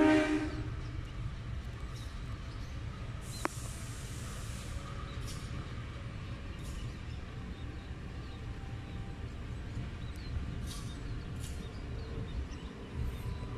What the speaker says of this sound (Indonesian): Sebentar lagi ada kereta masuk.